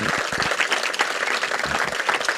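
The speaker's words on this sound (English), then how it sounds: "Let's please give a one big round of applause to this wonderful person." Audience applause at a master class Q&A on peace and sustainable development, a brief burst of steady clapping from a crowd, fairly close and even.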